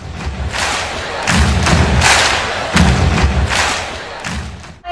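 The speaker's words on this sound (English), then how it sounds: "Give him a round of applause." An audience at a comedy show applauds and cheers, with loud waves of clapping and crowd noise swelling in repeated bursts, mixed with thumps.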